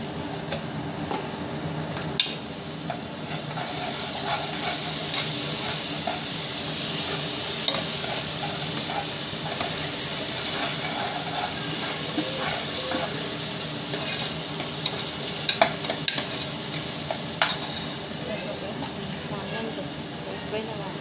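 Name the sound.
ginger garlic paste frying with onions in a pan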